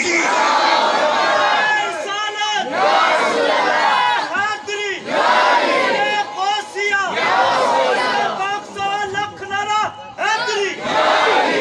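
A large religious gathering chants slogans in loud, repeated surges, many voices roaring together in waves with short dips between bursts, close and powerful.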